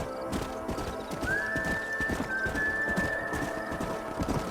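Horses in Red Dead Redemption on PS5 clip-clopping in a steady trot while one lets out a long, drawn-out whinny partway through, hooves close and clear.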